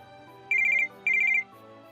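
A phone ringtone chirps in two quick bursts, each a rapid trill of bright electronic beeps, separated by a short pause over a quiet background hum.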